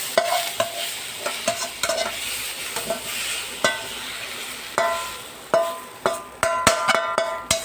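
Spoon scraping and stirring as spices temper in a hot pan, with sharp metallic clinks and a steady sizzle of oil underneath, close and irregular.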